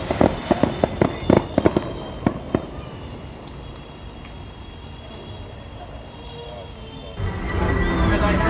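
Fireworks at Disney World crackle and pop in a rapid series of loud bangs, then fade into a steady rumbling roar that swells again near the end.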